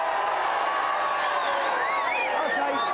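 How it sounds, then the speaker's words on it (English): A studio audience at a GamesMaster game show cheers and whoops continuously, a loud dense crowd roar with rising shouts throughout. "the crowd are cheering here going wild"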